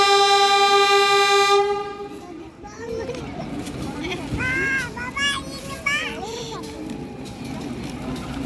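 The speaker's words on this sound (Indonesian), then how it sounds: "lokal Cibatuan berangkat dari stasiun Ranca Ekek." A CC201 diesel locomotive hauling a commuter train departs Rancaekek station, opening with a long sustained horn blast, then rumbling and wheel squeals as cars roll past, while children and other people talk nearby throughout.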